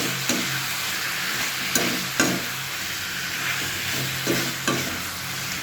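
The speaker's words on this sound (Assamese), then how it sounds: "এতিয়া মই ধুনীয়াকৈ আকৌ অলপ দেৰি ভাজিম" Broiler chicken with tomatoes and local chicken masala frying in a pan: a steady close sizzle broken by repeated scraping stirs of a utensil, with no talking.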